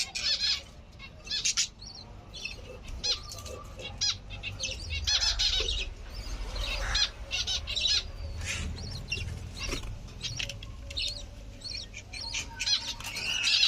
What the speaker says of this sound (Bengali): এখানেও বাজরিগাঁও